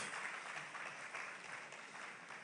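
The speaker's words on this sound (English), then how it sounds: "We can get a louder applause" Sustained applause from a large crowd, steady dense clapping throughout without a pause.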